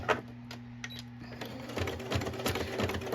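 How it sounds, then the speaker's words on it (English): Sewing machine stitching a straight line through thick chipboard, a steady close mechanical whir with rapid needle thumps that grow louder and busier partway through. "So let's do the straight stitch first. Hopefully I can sew at this angle."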